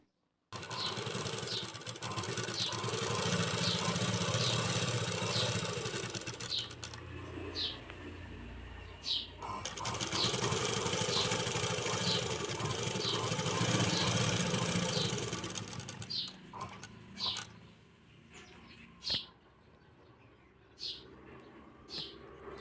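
Sewing machine running in bursts while stitching the lining of a children's kullalu cap, a steady mechanical whir with a fast rhythmic needle clatter, close and fairly loud, stopping briefly between runs.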